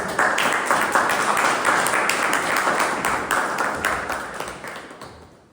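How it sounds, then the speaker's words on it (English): An audience at a Toastmasters club meeting applauds after a speaker is introduced, a dense, steady wash of clapping from many hands that slowly fades toward the end. "So I request everyone after the speech to give a standing ovation to motivate her for more speeches"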